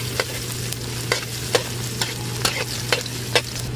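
Garlic and ginger fry in hot oil for crab in coconut milk, a steady soft sizzle broken by regular sharp spatula scrapes roughly twice a second.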